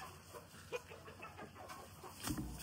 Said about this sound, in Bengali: এই যে একটা মুরগি ডিম পাড়তে বসছে,